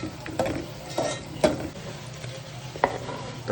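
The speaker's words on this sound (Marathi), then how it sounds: "तर त्यातनं दोन कांदे कापलेले आपण मोठ्या साईजचे, ते आता लालसर होईपर्यंत आपण तळून घेऊ." Two large chopped onions sizzle steadily in a pan, frying until reddish, while a utensil scrapes and stirs them in a few distinct strokes over the continuous hiss.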